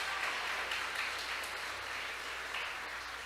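A Baptist church congregation applauds in a steady, diffuse wash of many hands clapping together, moderately loud and continuous, with no clear breaks.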